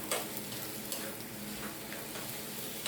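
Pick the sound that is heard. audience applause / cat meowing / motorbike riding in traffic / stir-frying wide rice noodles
stir-frying wide rice noodles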